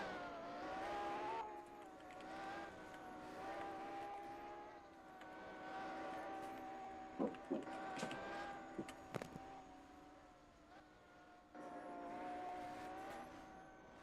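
A race car on a time attack lap at a circuit, its engine droning and shifting pitch from some distance, with brief sharp bursts and dips as it passes, heard alone without talk.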